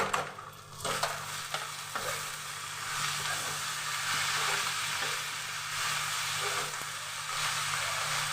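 Curry leaves hit hot oil that had been lightly fried beforehand, giving a steady close sizzle with stirring clatter throughout and no talking.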